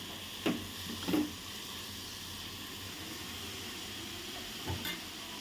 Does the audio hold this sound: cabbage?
yes